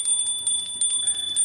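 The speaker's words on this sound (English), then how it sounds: "Let me just ring this little bell." Small hand bell rung several times in quick succession, bright metallic dings ringing out clearly over a quiet indoor background, each strike short and close.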